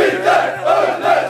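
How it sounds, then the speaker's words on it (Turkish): Football fans of 68 Aksaray Belediyespor chant in a city square, a loud crowd roaring rhythmic swells about three times in a short burst. "Kent meydanı şampiyon 68 Aksaray Belediyespor tezahüratlarıyla inledi"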